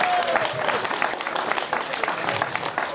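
Audience applause at the Krakowska Godka 2018 dialect festival in Modlnica, honoring a first-prize winner; dense, steady clapping fills the whole stretch, with a brief voice tone audible early on.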